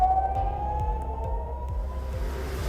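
A wartime air raid siren wails over Jerusalem, one long tone slowly sliding in pitch, heard at a distance with a low rumbling hum beneath it.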